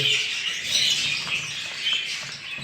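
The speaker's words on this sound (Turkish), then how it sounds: "Evet gördüğünüz gibi kuşlarımız burada." Pet budgerigars kept in a cage chatter and chirp together in a dense, continuous high twittering, moderately close, with no one speaking.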